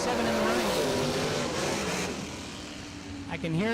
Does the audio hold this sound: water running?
no